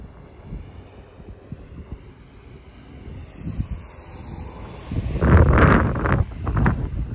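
Breezy wind buffets the microphone during the flight of an autonomous FPV plane converted to a V-tail, with low rumbling gusts that swell into louder, rough bursts toward the end, alongside a faint aircraft motor hum.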